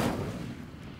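An Incendio fire spell is cast in Hogwarts Legacy, a single brief whooshing burst that hits at once and fades quickly.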